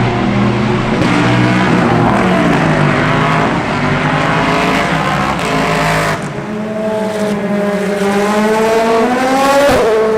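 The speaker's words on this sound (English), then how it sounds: "all the cars have been going past slower than normal, so you get a real good look at them" Race cars pass at reduced pace behind a safety car at night during the Le Mans 24 Hours, a continuous loud stream of engine roar with rising and falling revs as cars go by.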